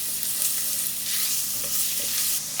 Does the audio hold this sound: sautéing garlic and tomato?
yes